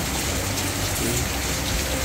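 Steady rain falls in Dubai, a constant close hiss of drops on surfaces with no talking.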